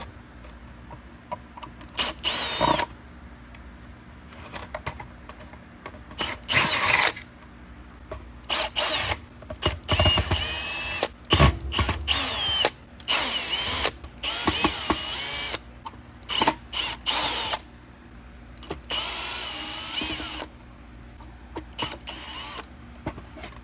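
A power drill backs Phillips head screws out of a Hoover WindTunnel 3 High Performance Pet upright vacuum, with repeated whirring bursts of varied length and short pauses between them, loud and close, with no talk.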